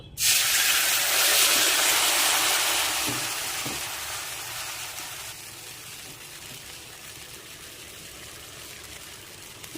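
A spice mix of nuts, milk solids and a little ginger hits a hot pan with a sudden loud sizzle that swells, then slowly fades into a softer, continuous frying hiss.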